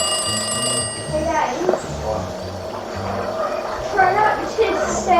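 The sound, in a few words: green phones ringing on Inkblot Art Academy, Splatoon 2 video game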